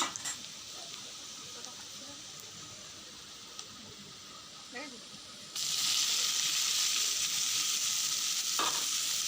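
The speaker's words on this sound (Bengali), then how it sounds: "এইবারে আমি শাকটা তুলে দেব" Leafy greens hit a pan of hot oil partway through, and a quiet background hum jumps to a loud, dense, steady sizzle that carries on to the end. A few light clinks come earlier.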